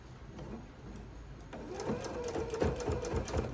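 A sewing machine runs in short stitching bursts, backstitching then going forward to secure seams on a thick quilted oven mitt, the motor rising louder partway through and close up with no talk.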